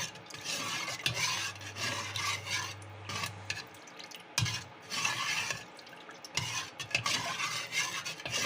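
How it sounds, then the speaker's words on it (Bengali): A big spoon stirring date palm jaggery in a pan, scraping and swirling in several bursts with short quiet gaps between them, close and moderately loud with faint liquid drips. "খেজুরের গুড় নিয়ে নিচ্ছি 1 চামচ, বড় চামচে। কিছুক্ষণ গুলে নেব এটা।"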